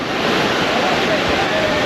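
Weak, gentle sea waves wash steadily at a beach at Praia das Astúrias in Guarujá, São Paulo, a continuous broadband surf roar with some wind noise on the microphone and no clear breaks.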